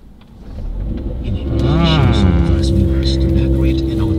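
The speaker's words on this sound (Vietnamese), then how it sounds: "cái tiếng máy nghe sướng lắm các bạn" Car engine cranks and fires up, then settles into a steady, loud idle close by, with a brief rise in revs as it catches.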